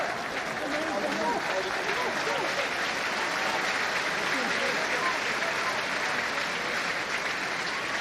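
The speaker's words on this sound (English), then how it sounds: "The applause, by the way, is for Anthony Watson, as he's been replaced by Harry Potter." A rugby stadium crowd at Leicester v Exeter applauds a substituted player, a dense, continuous roar of clapping from thousands of distant spectators, steady and even throughout, with a commentator's voice running over it.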